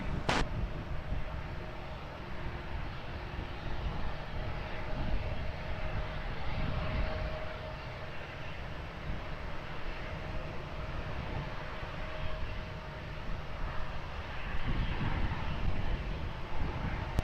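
A jet aircraft rolls for takeoff on runway 20 at Lisbon Airport, its engines producing a sustained, fairly loud broadband roar with a sharp click at the very start and a slight swell toward the end.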